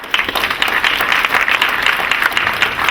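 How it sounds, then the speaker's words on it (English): An audience at a tech-community meetup breaks into loud, steady applause for the volunteers, many hands clapping close by without any talking. "let's give a big round of applause to all the volunteers who helped Ty"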